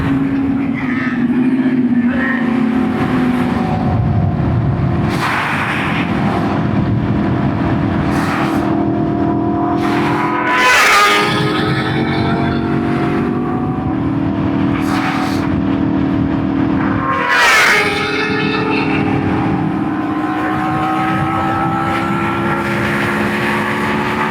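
BMW S1000RR and HP4 sport motorcycles racing at speed on a hot day, a loud steady engine roar with rising and falling revs and repeated sharp gear-shift dips, heard from on board throughout.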